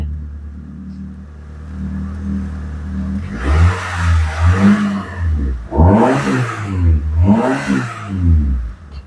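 A Proton Wira car with a stalling fault cranks and starts, settling into a low idle before being revved hard several times in close, loud surges, with no talk.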